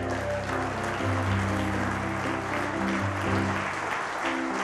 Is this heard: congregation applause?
yes